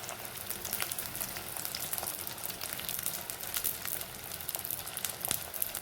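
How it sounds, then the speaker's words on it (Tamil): Chopped garlic and curry leaves sizzle in hot oil for a fish masala gravy, a steady close hiss with scattered crackles and pops, no talking. "பொடி உள்ளி சும்மா பொன்னிறமாக வர வரைக்கும் லைட்டாக வதக்கி விட்ருங்க"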